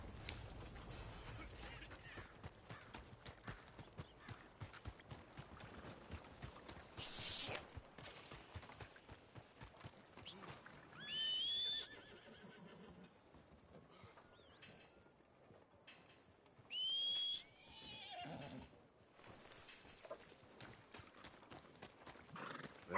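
Horse from Red Dead Redemption II with repeated clip-clop of hooves through a busy game soundscape, plus two brief high whinnies, moderately loud and close, with no talk.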